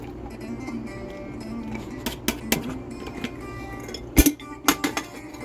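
Rinsed, soaked beans tumble from a container into a slow cooker, a short run of clinks and knocks against the pot over a steady background hum.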